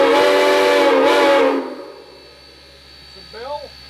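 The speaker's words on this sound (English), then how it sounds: "So, a couple of toots on the whistle." A loud, sustained steam locomotive whistle blast that cuts off abruptly, followed by quiet rumbling and a brief fainter whistle-like tone near the end.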